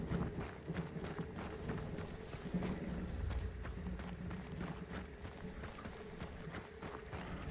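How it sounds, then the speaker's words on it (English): Horse hooves clip-clopping in the video game Hunt: Showdown, a steady run of rhythmic thuds close by, layered over a continuous ambient hum. "That's a horse."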